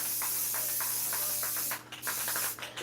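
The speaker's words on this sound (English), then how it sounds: "you just seen me spray this in my house, in my craft room" Aerosol can sprayed indoors in a craft room, likely glitter adhesive for a tumbler: a steady close hiss of spraying for nearly two seconds, then short bursts of spray with gaps.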